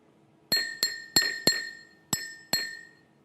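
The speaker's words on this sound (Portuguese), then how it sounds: "Próximo copo, um copo de vidro." Six sharp strikes on a glass cup come in an irregular rhythm, each producing a clear bright ring that fades over a fraction of a second, close up and alone.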